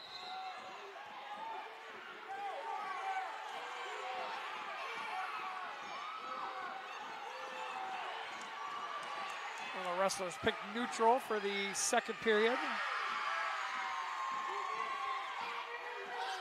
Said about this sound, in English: The cheering you hear is over on mats 5 and 6.